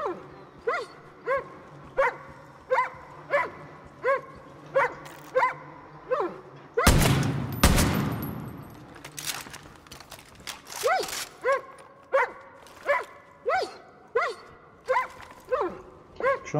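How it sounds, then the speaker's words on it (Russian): A dog in the video game Far Cry New Dawn barks in a steady, repeated rhythm, single barks about every second, with a burst of louder noise partway through before the barking resumes. "Что он там гавкает?"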